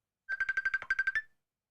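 A phone rings for an incoming caller on a call-in show: a short electronic ringtone of about ten rapid pulsing tones on one steady pitch, clear and close, heard alone against silence.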